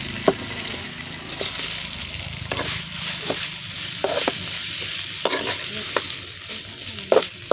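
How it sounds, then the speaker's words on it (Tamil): Cut potatoes stirred in a frying pan, with a steady sizzle and occasional scraping strokes of a utensil, close and continuous with no talk. "கட் பண்ணி வச்சுருக்க உருளைக்கிழங்கு சேர்த்துக்கலாம்."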